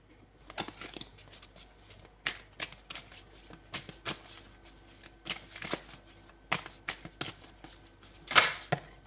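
Oracle cards are shuffled in repeated crisp riffling bursts, close and fairly quiet, in a spiritual horoscope reading, with no voices.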